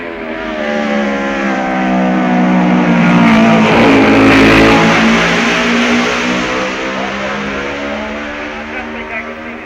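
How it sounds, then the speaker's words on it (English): Racing motorcycles, including a Jaguar and a Matchless, at the 1966 Isle of Man Senior TT, a loud engine roar swelling as a machine approaches and passes close by, then fading, with commentary over it. "then that tough old campaigner Frank Stasny, now down to 6th on his Jaguar, behind Chandler's Matchless."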